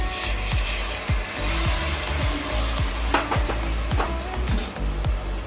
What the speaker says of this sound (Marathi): आता याच्यामध्ये थोडंसं गरम पाणी टाकूयात आपण